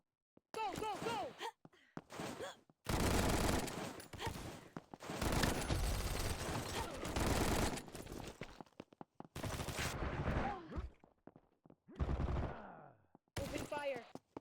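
Rapid automatic gunfire from the first-person shooter Combat Master in a deathmatch, loud sustained bursts of shots separated by short gaps, with brief voice lines between volleys.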